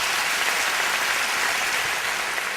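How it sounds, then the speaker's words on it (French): Audience applause following a speech, a dense, sustained roar of clapping from a large crowd, loud and even throughout with no talk over it. "Et je voudrais que vous applaudissiez la France pour cela."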